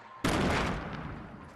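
Grenade thrown onto a roof explodes in a video game: one sudden loud blast that cuts in sharply, then rumbles and decays over about a second.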